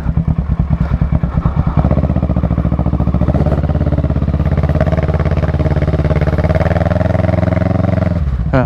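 A Kawasaki motorcycle climbs a steep, slippery, mossy uphill road, its engine droning loud and close with a steady, continuous rumble throughout.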